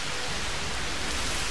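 Rain falling in the video game Jurassic World Evolution, a steady, dense hiss that holds even throughout with no voices over it.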